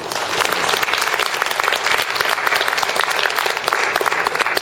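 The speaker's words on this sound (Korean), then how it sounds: "큰 박수 한번 보내주십니다" An audience at a Won Buddhist gathering gives a loud, sustained round of applause, dense and even throughout with a faint crowd murmur underneath.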